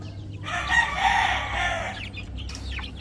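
Chickens and loose chicks in a crowded backyard coop, a hen's drawn-out clucking call rising close by, followed by scattered high chick peeps after it fades.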